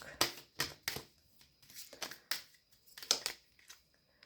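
Tarot cards being shuffled and laid down, a series of quick papery snaps and swishes in bursts, close up and fairly quiet.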